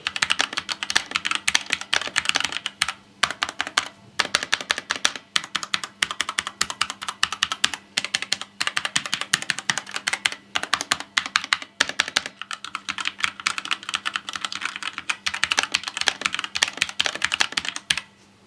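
Close, continuous typing on a DeepCool KB500 RGB TKL mechanical keyboard, rapid clacking keystrokes in irregular bursts with short pauses, loud and dry against a quiet room with no talking.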